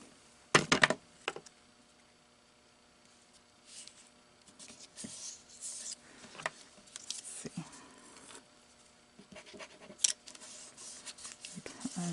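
Scissors snipping paper while making a Christmas card, a few sharp cuts near the start followed by scattered quieter snips, handling clicks and taps in a quiet room.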